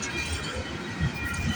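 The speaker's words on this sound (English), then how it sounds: "I believe we got another CP train coming" A CP freight train passes close by with a steady, loud rumble and roar of rolling cars, continuous over the short span.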